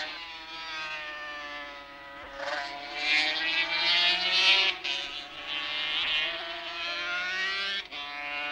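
Yamaha racing motorcycles at full speed during a 1970s-era race, high-pitched two-stroke engines wailing and rising in pitch as they pass, several machines overlapping, loud and close without talk.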